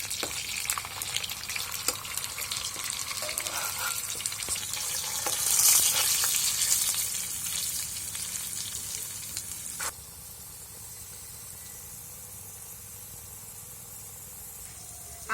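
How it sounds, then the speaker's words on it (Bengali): Salted potatoes fry in hot oil for a chicken biryani, giving a steady, close sizzle that rises briefly, then settles into a quieter, even crackle. "আলুর ভেতরে আমি লবণ দেব, সামান্য পরিমাণ দেব। এটাকে ভালো করে ভেজে নেব আমি।"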